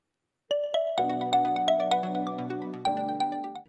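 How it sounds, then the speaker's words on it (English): Honor phone ringtone in the traditional style built on the Honor brand sound: a bright, melodic run of clear chiming notes that starts after a brief silence and rings on loudly in a steady rhythm, with no voices. "For traditional one, Honor brand sound ringtone like this."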